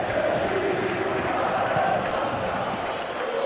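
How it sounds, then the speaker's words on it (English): Football supporters sing and chant in the stadium stands at a Champions League match between Atletico Madrid and Lille, a broad, steady crowd roar with a sustained tuneful swell. "A sea of team colours, songs ringing down from the stands."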